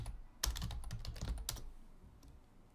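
Keys clatter on a computer keyboard in a quick burst of typing, close and fairly quiet, with a few separate clicks trailing off at the end.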